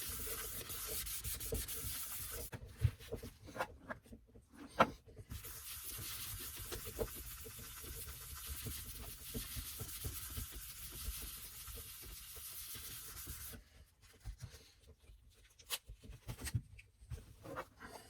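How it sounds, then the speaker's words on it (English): A steady soft rubbing and hissing as a cloth applies sanding sealer over a turned, dyed maple wood bowl, continuous with brief pauses, close and fairly quiet. "just apply your sanding sealer"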